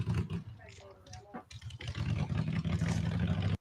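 A shovelhead motorcycle engine revs with a deep, uneven rumble that swells louder in the second half, while people talk over it early on.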